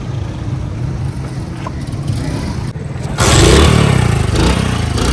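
A car setting off: a low engine idle and rumble runs for about three seconds, then swells abruptly louder as the vehicle pulls away, staying close and prominent to the end.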